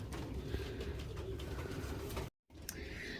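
Young pigeons coo softly inside an aviary, their low, murmuring calls steady and fairly faint against a rustling background, with a brief dropout of sound partway through.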